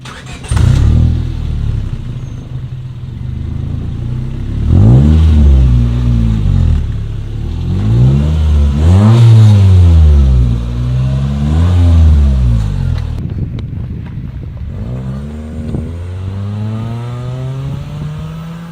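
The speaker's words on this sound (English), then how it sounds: "let's do a test run with the silencer in" A Honda Civic fitted with a cheap $20 eBay muffler, silencer installed, revs repeatedly: loud, close engine pulls climb and fall in several waves, then a final rising rev at the end.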